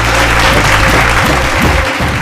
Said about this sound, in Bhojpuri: और जोरदार ताली के साथ स्वागत करी तीन राज्य के सुर के योद्धा लोगन के।